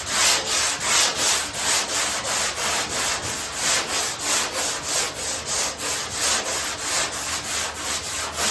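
A sanding block rubs back and forth across a car fender in steady, rhythmic strokes, each pass a gritty, even scrape repeating about twice a second, close and continuous with no talking.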